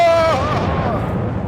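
Torpedo hit on a ship in a naval combat video game. A loud explosive blast opens, then a heavy rumble fades away, while a voice exclaims over the start.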